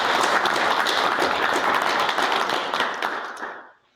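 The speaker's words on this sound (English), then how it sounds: "I think that deserves a round of applause" Applause from councillors and attendees at a shire council statutory meeting, steady dense clapping for a few seconds that thins and fades out at the end.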